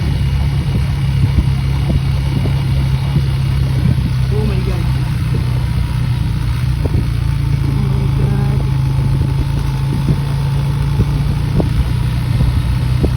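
A motorcycle engine idles and rumbles steadily nearby throughout on a muddy rural road after rain, with a person briefly exclaiming over it.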